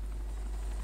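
A helicopter's rotor drones steadily as it lifts off in Grand Theft Auto, a continuous low whirring hum with no break.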